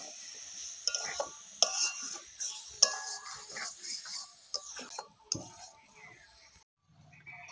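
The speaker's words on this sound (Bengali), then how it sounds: "আবারও ভালো করে নাড়াচাড়া করে একটু কষিয়ে নিতে হবে।" Boiled potatoes and peas being stirred and sautéed in a spiced pan, with soft scraping and occasional sharp clinks of a utensil against metal over a faint sizzle, while a voice talks quietly.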